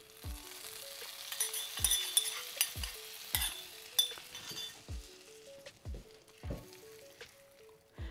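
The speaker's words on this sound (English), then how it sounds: "Mix the dal with the tadka." Tadka sizzling as it is mixed into dal fry, a soft crackle under repeated rhythmic spoon clinks and scrapes against the pot, fairly quiet and close.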